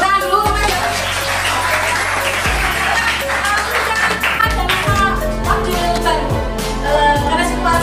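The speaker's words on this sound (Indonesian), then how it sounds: "Tepuk tangan dulu." An audience claps loudly and continuously, with a deep rhythmic pounding of music or drumming running beneath the dense applause throughout.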